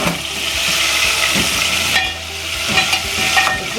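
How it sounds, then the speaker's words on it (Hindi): Chicken pieces fry in hot ghee in a pan, giving a steady loud sizzle and crackle, with occasional stirring scrapes close up. "आप देख सकते हैं कितनी अच्छी फ्राई हो गई।"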